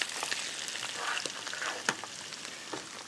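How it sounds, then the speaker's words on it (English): Close, steady sizzling and crackling from prawns frying in a hot pan, with scattered sharp pops. "You're going to have a sizzle and a crackle."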